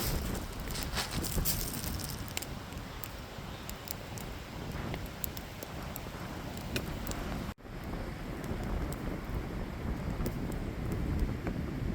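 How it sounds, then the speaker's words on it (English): A sudden wind squall gusts outdoors on a shoreline with the tide coming in, a loud, continuous rushing buffet with mic-battering roar that dips for an instant, then carries on. "A little bit of a wind squall coming through"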